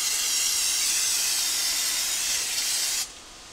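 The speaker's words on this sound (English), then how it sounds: "We're going to lightly spray the inside of our crock pot with some nonstick cooking spray" Nonstick cooking spray hisses from a can onto the inside of a crock pot in one steady, close, continuous burst lasting about three seconds, then cuts off abruptly.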